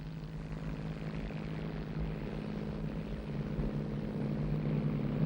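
A light airplane engine drones steadily in flight over Zambia, a close, continuous propeller hum that grows slightly louder, with no talk.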